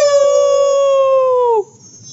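A person imitates a wolf howl, holding one long, steady, full-voiced note for about a second and a half before it slides down and cuts off, leaving a faint background hum.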